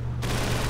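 A sudden burst of sustained gunfire in Call of Duty 3's Les Ormes hostage mission, erupting after a brief quiet and continuing as a dense, steady rattle.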